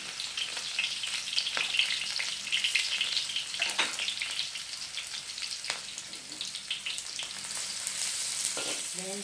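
Onion and garlic paste fry in a pan with a dense, continuous crackling sizzle, with a few faint utensil clicks, close and steady.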